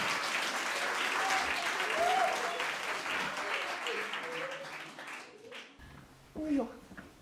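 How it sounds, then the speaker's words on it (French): Sustained applause from a theatre show audience, steady and fairly loud, fading toward the end with a few scattered claps and a brief voice. "s'il vous plaît, applaudissez encore une fois Romane et Bertie."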